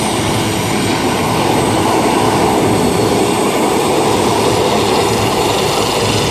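A CAL FIRE air tanker lands at an air attack base, its engines a loud, steady roar that fills the whole stretch with dense broadband noise.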